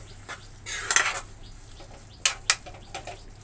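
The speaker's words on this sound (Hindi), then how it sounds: "सारा अच्छे से मिक्स करने के बाद थोड़ा सा पानी डालूँगी मैं" A spoon scrapes and clinks against a pan while soya chunk and capsicum bhurji is stirred, several short metallic scrapes and taps in irregular bursts over a quiet background.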